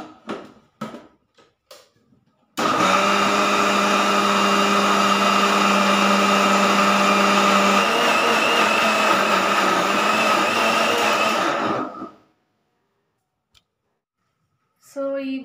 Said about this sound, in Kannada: ಈಗ ರುಬ್ಬಬೇಕು.